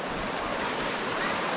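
River water rushes steadily at a river crossing near Zimapán, Hidalgo, a dense, even roar of flowing water with some wind buffeting the microphone, and no voices.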